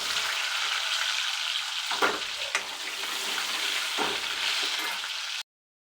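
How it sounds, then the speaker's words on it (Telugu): Onions frying in hot oil with mustard seeds, cumin and chillies for an okra stew, a steady loud sizzle with a few sharp scrapes of a stirring spoon, ending abruptly in silence. "సో ఆయిల్ హీట్ అయినాక కొద్దిగా ఆవాలు, కొంచెం జీలకర్ర, మిర్చి వేసుకున్నాం, ఆనియన్స్,"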